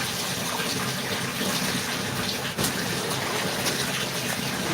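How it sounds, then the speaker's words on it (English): Water runs from a tap continuously for laundry rinsed by hand, a loud, close, steady gushing splash with a brief dip partway through, unbroken by speech. "I'm into rinsing the second batch of my washing."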